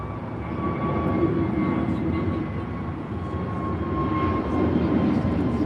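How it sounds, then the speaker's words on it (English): Avianca Airbus A320neo taking off at LAX, heard as a steady mid-distance jet roar with a faint high engine whine, continuous through the short span. "This is Avianca 523 taking off to San Salvador on the A320 Neo."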